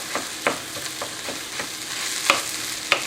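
Ground beef for sloppy joes browning in a pan under a steady hiss of frying, with a spatula tapping and scraping now and then as the meat is broken up. Nearby and fairly loud, with no talking.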